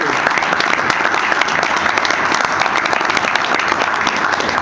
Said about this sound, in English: we can give them an applause.